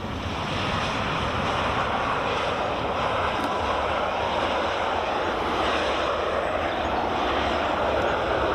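A Ryanair plane from Sofia comes in to land at Edinburgh Airport, a steady, rushing jet engine roar mixed with wind noise that stays constant throughout with no talk.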